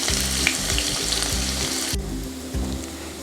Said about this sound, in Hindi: इसमें अब प्याज डाल देंगे और प्याज को ब्राउन करेंगे अच्छी तरह।